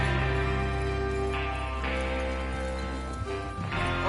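Horses gallop in Red Dead Redemption 2, their hooves clip-clopping in a steady rhythm under a loud, dense layer of tonal sound that fills the whole stretch.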